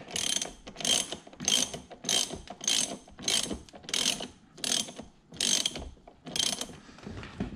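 Ratchet wrench with a T50 Torx socket tightening the steering wheel bolt on a C7 Corvette, about a dozen rapid clicking bursts in a steady rhythm, close and crisp with no talking.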